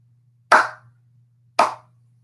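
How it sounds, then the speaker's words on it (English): Two slow, deliberate hand claps ring out about a second apart, each a sharp, close smack with a short decay, over a faint low hum and otherwise quiet surroundings. "You get the slow clap."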